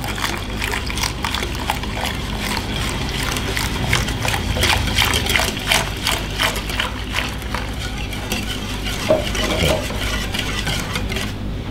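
Spoon stirring a batter mixture right after UHT milk is poured in for a no-bake takjil dessert, a steady wet swishing and scraping with soft liquid sloshing, continuous and close throughout.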